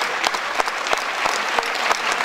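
Loud, sustained audience applause at a spring choir concert for the young singers, a thick wash of clapping with individual sharp claps standing out throughout.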